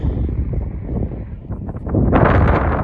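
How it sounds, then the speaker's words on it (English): Strong cold wind off Lake Michigan in Chicago buffets the microphone in a loud, continuous roar that swells harder toward the end. "It is a lot colder, and it's also really windy."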